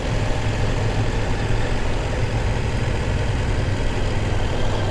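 CF Moto 800 MT motorcycle engine with fly-by-wire throttle, a steady loud low idle rumble running evenly throughout with no voices.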